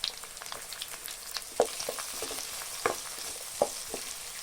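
Sliced onions, green chillies and carrot pieces fry in a pan for rice ganji, a soft continuous sizzle dotted with scattered pops and stirring scrapes, fairly quiet and close.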